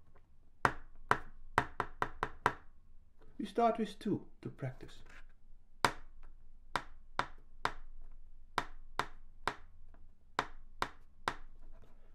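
Sharp taps beat out a practice rhythm for rhythm reading, arriving in short even groups with a brief spoken line partway through, then continuing as clear, close, isolated strikes.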